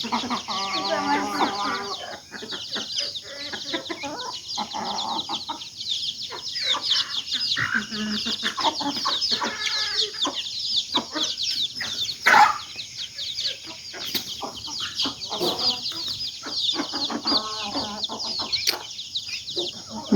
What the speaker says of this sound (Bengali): মুরগিগুলাকে আদার খাওয়াইতেছে